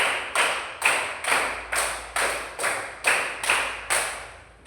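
Classroom pupils clap in unison for a counting rhythm game, about nine bright claps in quick, slightly uneven succession, each ringing briefly in the room, loud and near with no talking.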